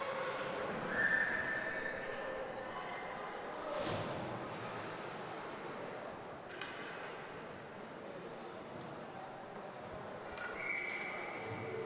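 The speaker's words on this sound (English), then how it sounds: "Benadio holds for the whistle." A referee's whistle at a high school varsity ice hockey game gives short, shrill blasts near the start and again near the end, set against steady arena crowd noise.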